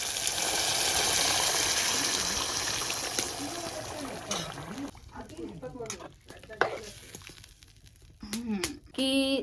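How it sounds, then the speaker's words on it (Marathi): A broad rushing pour of hot water into a pot of chicken over the first few seconds, then quieter stirring and sizzling, with a person talking over it. "आता याच्यामध्ये गरम पाणी टाकूया"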